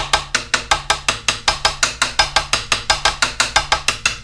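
Rims of an electronic drum kit struck rapidly in an even stream of sharp, clicky hits, about four or five per second, close and alone.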